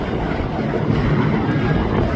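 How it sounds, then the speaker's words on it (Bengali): Steady broadband roar of the MV 14 passenger launch, a river boat with two engines, gathering speed after leaving the ghat, a continuous loud rumble and wash with wind buffeting the microphone and no talk. "ঘাট ত্যাগ করে স্পিড বাড়িয়ে দিয়েছে এমভি 14।"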